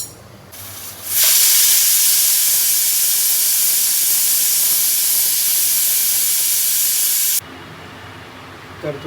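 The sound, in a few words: pressure cooker whistle releasing steam while cooking mutton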